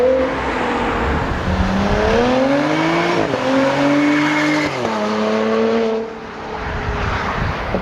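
A 10th-gen Honda Civic Si sedan fitted with an AWE Touring Edition exhaust drives under load, its steady engine and exhaust tone rising and falling through several gear changes, loud and close throughout with no talk.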